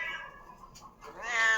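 A large pet cat meows twice, close and clear, the second call rising longer and louder.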